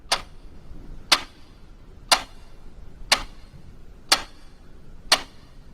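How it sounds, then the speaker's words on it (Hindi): A clock ticks off seconds with six sharp, evenly spaced clicks about one second apart, close and distinct against near silence. "सिर्फ घड़ी के सेकंड की आवाज"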